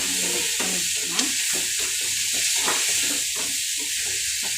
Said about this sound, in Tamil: தக்காளியை மிக்ஸ் பண்ணிக்கலாம்.